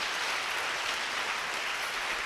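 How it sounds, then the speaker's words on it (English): Audience applause fills an auditorium at a school band concert: steady, dense clapping from a crowd with no breaks, sustained at an even level from start to finish. "Give them a big round of applause."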